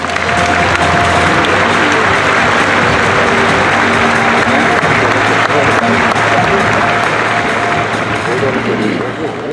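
Sustained loud applause from a large audience at the 2018 Lions International Convention, a dense, steady wash of clapping filling the hall with crowd murmur mixed in throughout.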